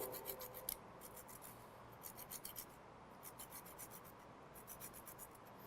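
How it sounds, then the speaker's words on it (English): Quiet, close rasping of a lime rubbed against a zester, repeated short scraping strokes in an uneven rhythm, with no voices over it. "So we have our zest. Is zesting. I will zest now."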